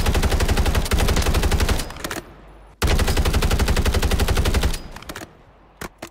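Long bursts of automatic gunfire in a battle royale game, loud and rapid, two sustained strings separated by a short pause, then a few scattered single shots trailing off.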